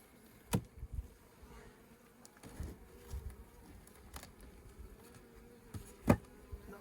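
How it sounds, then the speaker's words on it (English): Faint, low buzzing of many bees in a hungry, starving colony during a hive inspection, a steady hum with occasional closer passes and small knocks. "Many bees."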